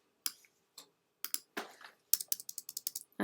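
Keys tapped on a computer keyboard, first in a few scattered presses, then in a quicker run of about a dozen crisp clicks near the end, close and clear with no talk.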